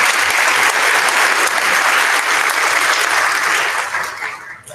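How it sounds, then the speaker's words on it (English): An audience at a middle school recognition ceremony gives a round of applause, a dense, loud burst of clapping that holds steady for several seconds and then tapers off at the end. "Round of applause."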